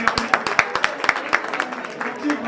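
Lively applause breaks out for the local MLA at a free eye-checkup camp in a Digambar Jain community hall, with quick overlapping claps from a moderate crowd close by.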